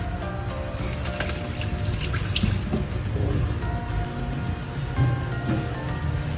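Tap water runs into a pressure cooker, a steady close splashing stream with small gurgling shifts, under faint background noise and no clear talk.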